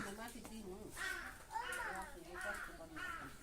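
Crows caw repeatedly at a distance in a steady series of harsh calls in a village in the morning, while people talk softly nearby.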